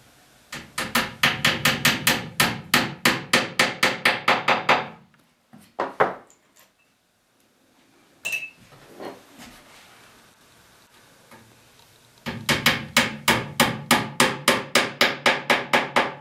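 Hammer blows drive wood into place during a guitar back glue-up, sharp close knocks in two fast steady runs separated by a quieter pause with faint handling noises.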